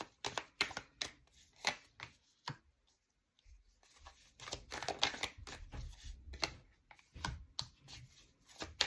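Tarot cards being handled and shuffled in a quiet room, a series of crisp papery riffles and slaps in uneven bursts with a short pause midway, close and fairly faint.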